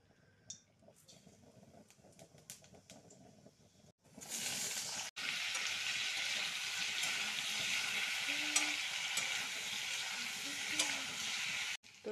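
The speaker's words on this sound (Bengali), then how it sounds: "তো কাঁচা কলা আলু ভালো করে লাল লাল করে ভাজা হয়ে গেছে" Green banana and potato pieces fry in oil in a pan, at first with quiet scraping and stirring, then a loud steady sizzle that carries on with occasional clicks.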